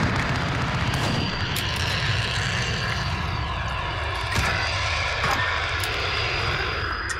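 Loud, steady engine roar of a VTOL aircraft in the Modern Warfare game, holding continuously across the whole stretch with a few brief thumps mixed in.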